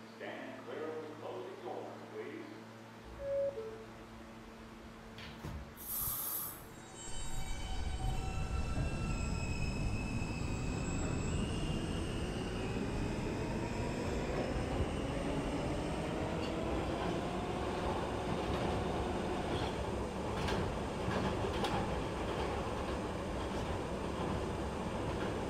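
New York subway N train pulling out and running between stations, rumbling louder as it gathers speed with rattling wheels and faint squeals, preceded by a brief automated announcement and door chime.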